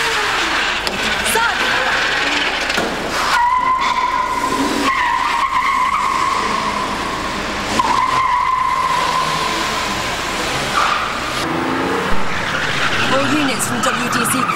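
A Jaguar XJ6 skids through the Edgington Street long-term car park during a police chase, with tires squealing in drawn-out, loud whines over engine noise, while people talk over the action.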